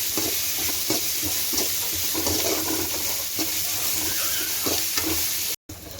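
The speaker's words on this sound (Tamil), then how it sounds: "பச்சை மிளகாயை சேர்த்து நல்லா வதக்கி விட்டுக்கலாம்" Green chillies sizzle and fry in a hot pan while a spoon stirs with regular scraping strokes, close and loud, with a brief cut near the end.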